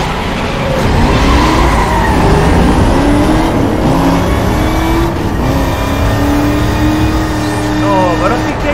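A 1969 Dodge Charger RT engine in a racing video game roars loudly and steadily, its pitch sweeping up and down through gear changes, with brief tire-skid squeals near the end.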